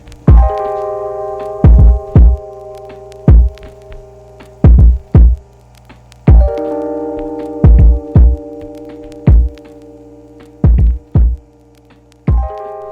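A 1925 Oliver bandsaw runs with a steady low electric hum and a loud, regular thumping pulse, the beats landing in close pairs like a heartbeat.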